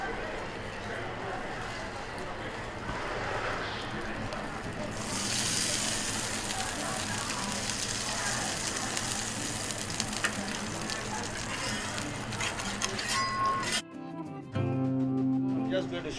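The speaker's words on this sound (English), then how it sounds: "And then we carry this, we pan fry here." Meat and sliced onion filled dough, folded and pan fried at a hawker stall, sizzling loudly and continuously close by, with background bustle and a brief clatter near the end.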